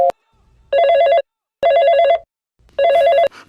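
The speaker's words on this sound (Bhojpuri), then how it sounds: "फोन भी नहीं उठा रही है।" A telephone rings unanswered indoors, three loud electronic trilling bursts with short pauses between them, each ring close and clear.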